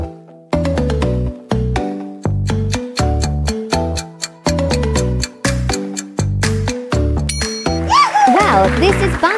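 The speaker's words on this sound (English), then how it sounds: "This is Bongo Cat." Bongo Cat meme music: bright, percussive tapping notes struck in a steady, loud rhythm, closing with a swirl of squeaky, bouncing sound effects.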